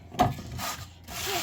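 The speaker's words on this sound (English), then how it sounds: "I'm just trying to take the surface rust off of it for now." Aluminum foil scrubs surface rust off a cast iron pan in short, close rasping strokes, a couple of quick rubs separated by brief pauses.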